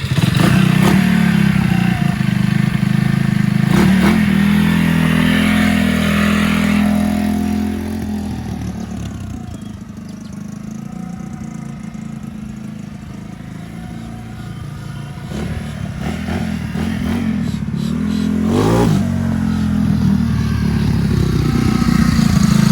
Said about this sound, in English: I'm gonna take it for a little spin now and see how it feels.